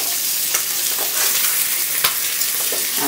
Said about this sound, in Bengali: সামান্য মুঠা মুঠা তেলে আমি ডিমগুলো ভেজে নিচ্ছি।